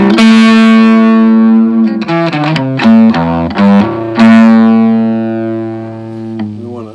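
A Carvin SX200 guitar amp with the drive at maximum gives heavily distorted, sustained electric guitar notes and chords, loud and buzzy with a short choppy riff in the middle before a long held note rings out.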